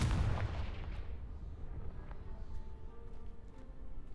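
An explosive Confringo spell blast in the video game Hogwarts Legacy erupts loudly at the start, then fades into a rumbling decay over quiet game ambience.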